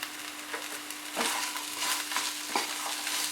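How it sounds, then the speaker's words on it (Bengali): A spoon stirs a veg burger mixture with spices, chopped coriander and salt in a pan, making repeated scraping, rustling strokes over a faint sizzle, close and steady, with no talking. "ভালো করে মিশিয়ে নেব।"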